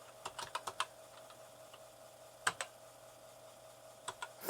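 Keys clatter on a BBC Micro computer keyboard in short bursts of quick taps separated by pauses, close and fairly quiet over a faint steady electrical hum, with nobody speaking.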